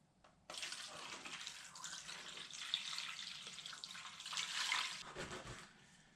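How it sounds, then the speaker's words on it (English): Cold tap water runs in a steady, close rush for about five seconds after a brief quiet start, then tapers off near the end. "Cold tap water."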